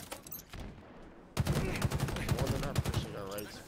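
Rapid gunfire from a video game crackles in a dense burst of shots, with more sporadic fire before it. A player's voice is heard over the shooting.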